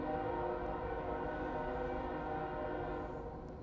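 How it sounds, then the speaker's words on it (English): A loud train passing nearby, its heavy continuous rumble and droning hum filling the whole stretch at steady volume, with no talking over it. "Dang, this train loud as frick."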